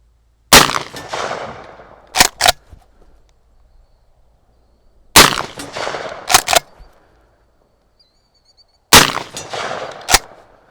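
Three loud, sharp shotgun blasts from a Maverick 88 fully rifled slug gun fired from a shooting bench outdoors, each followed by a short echo tail and the quick clack of the pump being cycled.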